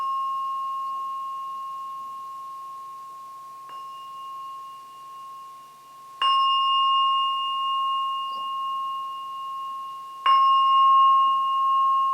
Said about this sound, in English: So just wait for the bell to ring 3 times.